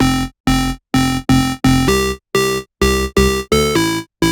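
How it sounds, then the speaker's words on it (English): A bright, buzzy synth square-wave tone, pitched up seven semitones, plays a run of about nine short, evenly spaced notes, loud and with no voices. "we've got this square wave. This is then pitched up by 7 semitones"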